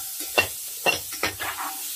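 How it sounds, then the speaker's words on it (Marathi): Ridge gourd peel chutney is stirred in a hot pan, with a few distinct scraping strokes of the spoon over a soft frying sizzle, close by and fairly quiet. "खमंग होतं, हलवत राहायचं एकसारखं."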